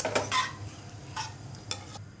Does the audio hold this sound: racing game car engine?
no